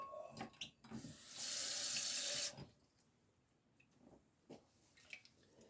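Tap water runs steadily from a kitchen faucet into an emptied pasta sauce can for about a second and a half, a loud close rush that stops abruptly, with faint clinks and handling noises before and after.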